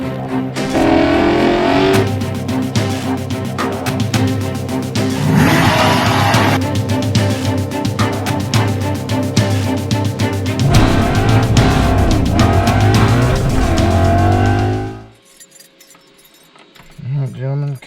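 A Ford Mustang engine cold-starts after sitting 27 years, producing a loud, rough, clattering roar with rising and falling revs for about fifteen seconds before cutting off abruptly. Voices can be heard faintly underneath.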